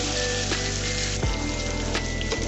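Potato pieces fry in hot oil in a pan, giving a dense, continuous crackling sizzle close by, with small pops and a faint scrape of a utensil and no voices.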